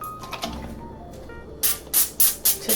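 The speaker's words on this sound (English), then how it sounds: "I'm going to use a little pan to spray on" Cooking oil spray is spritzed onto aluminum foil in short bursts to coat it for salmon, about five quick, close hissing sprays after some faint kitchen handling noises.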